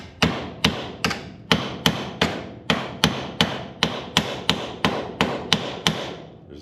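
A bent metal ear from a planer base being hammered flat on a tiny anvil: about sixteen sharp, ringing metallic blows at a steady, quick pace, close and loud, with no talking.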